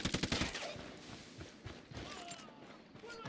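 Gunfire in the Ghost Recon Wildlands video game opens with a rapid burst of about eight automatic shots, then scattered single shots and lighter impacts continue more faintly behind game sounds.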